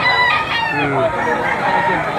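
Several roosters crow and cluck at once close by, a dense overlapping chorus at a poultry auction where game fowl are being sold.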